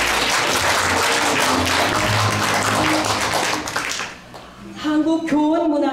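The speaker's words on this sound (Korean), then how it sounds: "이 세 분을 다 박수로 환영해 주십시오." An audience at a year-end literary evening gives dense, close applause to welcome guests. It dies down after about four seconds, and a voice speaking over a microphone follows.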